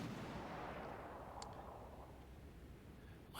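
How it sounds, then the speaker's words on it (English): A warship's cannons fire in World of Warships: Legends: one deep booming report that fades into a long rumbling decay, followed by a faint distant shot, with no talk. "you fire the cannons and let the ship settle between shots"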